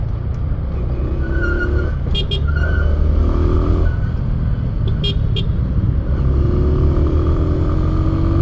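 A car engine hums steadily in second gear while slowing in traffic, a close, continuous low rumble with a few faint squeaks and background road noise.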